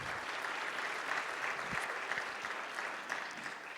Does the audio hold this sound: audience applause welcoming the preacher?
yes